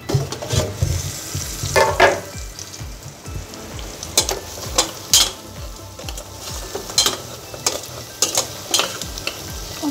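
Paya curry fries in a pan, with steady sizzling broken by repeated sharp scrapes and clinks of a ladle stirring against the metal, loud and close.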